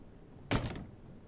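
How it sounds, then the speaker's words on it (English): A door closes with a single short soft thud in Life is Strange 2, heard alone against a quiet background. "let's go out and close the door."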